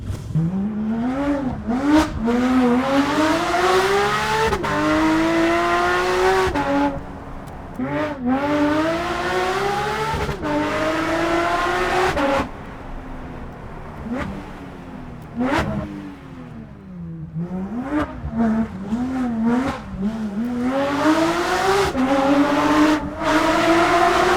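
A straight-piped Porsche 992 GT3 RS flat-six revs hard through its gears, very loud and close, with rising wails, sharp shifts and a brief lift-off before climbing again, and no talking.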